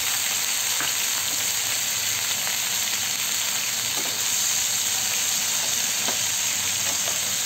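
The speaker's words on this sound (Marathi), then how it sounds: "पनीर छानच परतलं गेलं आहे" Paneer sautés in a pan with a spoonful of yogurt, red chilli powder and garam masala, giving a steady, close sizzle and crackle that runs through the whole stretch with a few faint stirring knocks.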